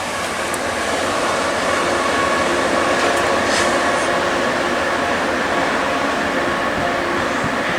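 A freight train rolls past at close range in North Louisiana, a continuous loud rumble and clatter of rail cars with wheel squeal overhead, steady throughout without talk.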